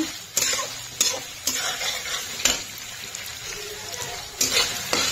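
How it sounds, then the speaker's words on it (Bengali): Paneer frying lightly in a pan, stirred with a utensil: a steady soft sizzle with repeated sharp scrapes and clinks against the pan at irregular intervals, close up. "পনিরটাকেও করে নেব অল্প একটু ফ্রাই"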